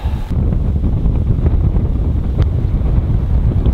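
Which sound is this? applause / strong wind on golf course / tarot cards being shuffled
strong wind on golf course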